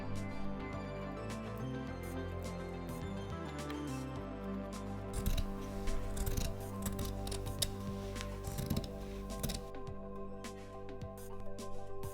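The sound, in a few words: scissors cutting folded fabric remnant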